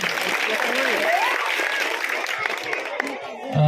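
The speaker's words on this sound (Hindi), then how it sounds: "मैं चाहूँगा आप लोग एक बार जोरदार तालियों से बच्चों को हौसला अफजाई करें" Loud applause from an audience at a village program, honoring children after their performance, a dense sustained clatter of clapping with voices and crowd murmur underneath.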